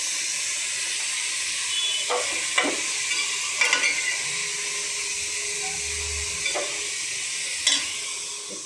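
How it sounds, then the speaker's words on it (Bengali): Carrot pieces fry for carrot laddu in a pan, giving a steady close sizzle and hiss with occasional stirring scrapes at irregular intervals. "গাজরগুলো দিয়ে নেড়ে চেড়ে দেব।"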